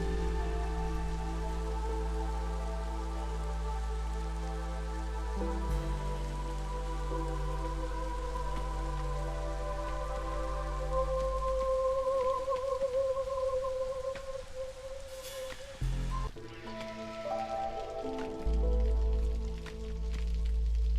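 Steady rainfall patters through a storm in the colony-building game Against the Storm, under sustained tonal music with shifting notes. A brief dip and swell near the end breaks the otherwise continuous wash.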